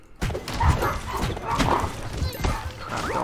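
Dogs in the video game Undermine yip and bark in quick, close bursts, mixed with thuds and other game effects and a voice in the background.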